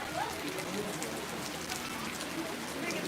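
Steady rain falls outdoors during an Ashadhi Ekadashi procession at Jalichadev, a dense, even patter that fills the whole stretch at moderate loudness, with faint incidental sounds beneath it.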